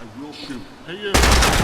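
Rifle gunfire in Project Silverfish, a video game, during a 5.56 and 30-06 weapons test: a sudden loud burst of rapid shots at the end, after a stretch of quieter, tonal game sounds.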